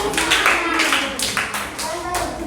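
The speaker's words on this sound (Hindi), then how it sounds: "एक ताली होना चाहिए" A small audience in a maths quiz class claps for a correct answer, a short burst of close, scattered hand claps that tapers off within a few seconds.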